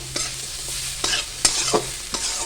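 Chilies are stirred in a frying pan over a soft sizzle, with about five distinct scraping strokes of the utensil against the pan at an uneven pace, close and clear, with no voices.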